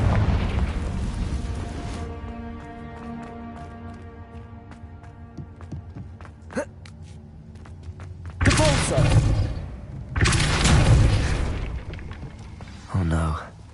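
Booming explosions from the Confringo blasting curse in Hogwarts Legacy on PS5, two loud roaring bursts in the latter half after quieter thumps, with game ambience throughout.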